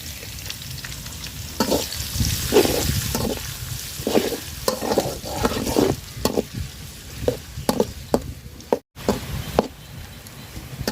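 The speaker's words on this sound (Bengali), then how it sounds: "পেঁয়াজটা লাল লাল করে বাজা নিছি" Chopped onions frying in hot oil, with a constant close sizzle punctuated by repeated knocking scrapes of a spatula against the pan and a brief dropout near the end, no talk.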